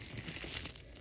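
A thin plastic bag from a toothbrush unboxing crinkles and rustles close up, a short, faint burst of crackling that lasts about a second.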